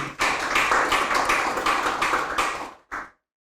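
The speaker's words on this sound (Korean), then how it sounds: "우리 강미진 강사님께 다시 한번 큰 박수 부탁드리겠습니다" A lecture audience at a Daejeon unification academy event bursts into dense, steady applause for a speaker, sustained for under three seconds before cutting off sharply, with one last brief burst.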